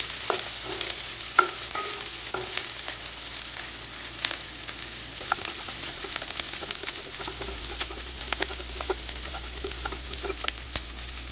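Chilli fish with capsicum stirred in a hot pan: steady oil sizzle with a scatter of scraping clicks and spoon taps, close and fairly quiet, no voices.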